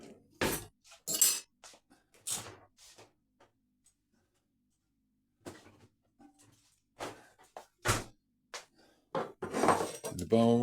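A metal fork and a bowl being picked up and handled in a kitchen, producing sharp intermittent clinks and knocks close by, separated by quiet gaps.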